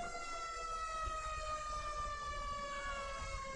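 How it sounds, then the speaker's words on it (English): Emergency vehicle siren in a police-and-fire mod of GTA V, a steady sustained wail with harmonic tones, moderately faint over low engine rumble, unbroken for several seconds. "Let me turn off my siren."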